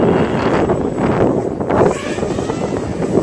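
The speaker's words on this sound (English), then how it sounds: "There's more wind actually." Outdoor wind buffets a microphone in steady, rough gusts during a micro quadcopter flight, loud and continuous for the whole stretch with no clear speech.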